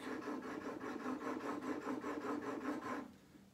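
A steel chisel is being honed in a sharpening jig, giving a steady, close scraping rasp of repeated strokes that runs continuously for about three seconds and then stops abruptly, leaving quiet.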